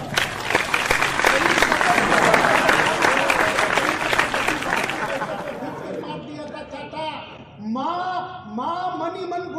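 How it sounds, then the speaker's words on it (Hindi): Audience applause and crowd chatter at a Hindi poetry gathering (kavi sammelan) for Indore's foundation day, loud and dense for about six seconds before fading as a speaker's voice takes over. "अच्छी बात पर ताली नहीं बजाओ, बजाओ तुम्हारी मर्जी"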